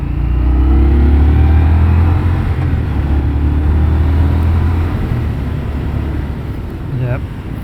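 An Indian Scout Bobber Twenty motorcycle on a test ride in third gear, its engine a loud, low, steady rumble up close that eases slightly toward the end, mixed with rushing wind.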